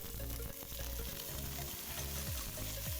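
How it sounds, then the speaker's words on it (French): Chopped vegetables sautéing gently over low heat in olive oil for a ramen soup base, giving a steady, continuous sizzle and crackle that stays close and fairly loud throughout, with clatter of stirring underneath. "les faire revenir légèrement avec un peu d'huile d'olive ou de matière grasse, sans coloration, à feu doux"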